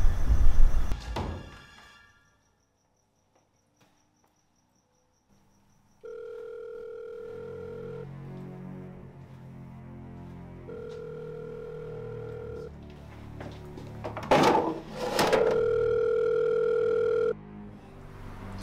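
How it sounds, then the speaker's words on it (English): A telephone rings in a quiet, unlocked room, sounding in a few steady electronic tone bursts separated by silence, with a louder burst near the end. "It's Marcus' phone."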